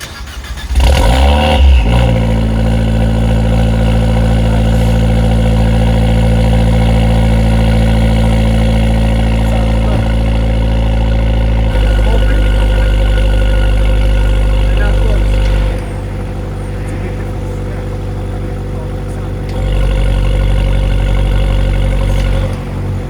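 A widebody Abarth 124 Spider cold-starts with its exhaust valve open, a sharp crank and flare into a loud, steady high idle that settles lower toward the end, close and continuous with no talk over it.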